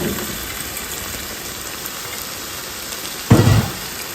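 Gizzard tipped into a hot pan already sizzling with bell pepper: a steady, rain-like frying hiss runs throughout, then a louder, fuller sizzle bursts up near the end as the meat hits the oil.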